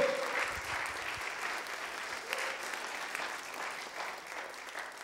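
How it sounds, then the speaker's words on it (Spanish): A church congregation applauding together at a sermon, steady and sustained clapping that fills the whole stretch at moderate distance, with no talking over it. "Dele un fuerte aplauso al Señor"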